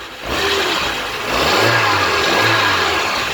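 A car engine fitted with a fake turbo spinner revs from idle, with two rising throttle blips over a steady mid-pitched engine drone, close by with no talking.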